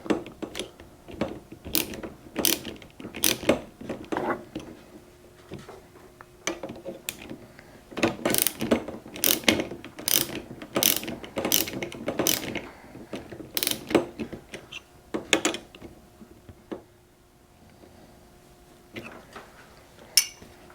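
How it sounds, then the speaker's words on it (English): Repeated quick clicking of a 1/2 inch ratchet tightening a chrome flagpole mount on a Honda Goldwing motorcycle, crisp close-up bursts in short strokes with brief pauses, no talking. "I'm going to use this 1/2 inch to just hold the flagpole into position. I'm just going to tighten this down."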